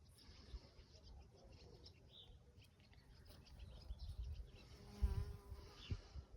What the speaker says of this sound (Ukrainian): Дуже і бджілки полюбляють.